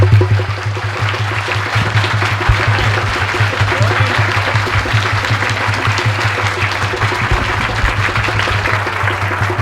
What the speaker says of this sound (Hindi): जोर से तालियां बजाएं, जोर से।